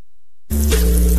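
After a short silence, a loud burst of sizzling hiss and crackle sets in, meant as hot, real mozzarella cheese melting over fresh pizza dough, with a low rumble underneath and no talking.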